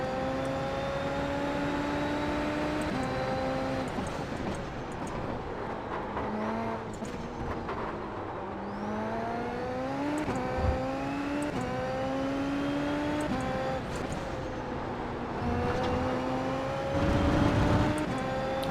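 Super Formula SF23 race car engine in iRacing, a high-pitched whine that rises and falls as the throttle is fed in carefully through corners, with a steady loud drone and a brief surge near the end.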